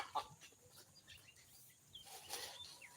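Chickens cluck in an outdoor yard, a sharp near call near the start followed by scattered soft clucks and faint bird calls over low background noise.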